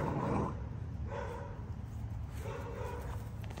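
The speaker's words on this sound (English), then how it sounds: "Dang, these dogs fight." Puppies play-fighting, scuffling and yipping in short bursts, with growly play noises and scrabbling, fairly close and moderately loud.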